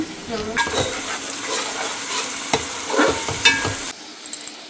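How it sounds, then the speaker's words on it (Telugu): Onions fry and sizzle in a pan while being stirred, with scraping strokes and bursts of crackle over a steady hiss, close by, with some background voices. "ఆనియన్స్ మగ్గుతున్నాయి"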